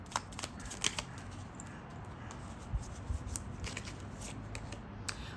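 A deck of tarot cards is shuffled by hand in a steady stream of soft riffling clicks and flutters, close and continuous, with no voice.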